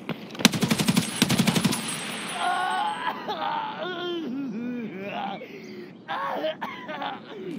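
Rapid bursts of automatic gunfire in Escape From Tarkov crack loudly at the start, followed by a sustained electronic hum and warbling synthetic tones.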